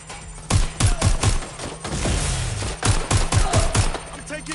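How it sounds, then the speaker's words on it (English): Automatic weapon fire in Watch Dogs Legion, two clusters of four or five heavy close shots each, separated by a short lull, loud over game ambience and music. "I'm taking fire"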